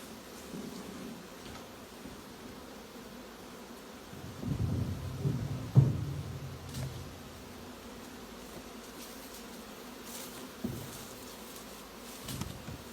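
Honeybees at their hives hum in a steady, low buzz close by, with a few louder swells and occasional bumps from hive boxes being handled.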